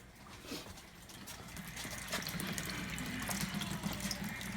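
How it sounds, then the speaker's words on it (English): Water drains steadily from a home water heater's drain valve, a continuous rushing, splashing flow that grows slightly louder partway through and runs alone without talk. "Still got a good flow coming out of that drain."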